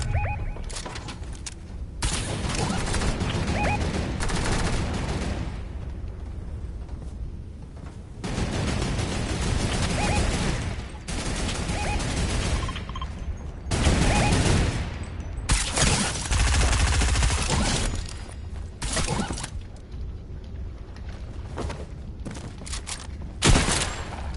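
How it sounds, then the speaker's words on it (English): Online players trade gunfire in a shooter video game, with repeated bursts of rapid shots and volleys coming in loud waves across the clip and brief lulls between them, no talk. "You see people shooting, you gotta be aware."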